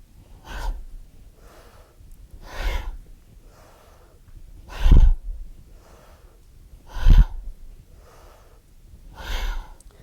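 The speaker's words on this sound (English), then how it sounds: "breathing out sharply through the nose while you suck in the belly" Sharp, forceful exhales through the nose during breath-of-fire yoga breathing, spaced about every two seconds with soft breathy pauses between, close and distinct with no talking.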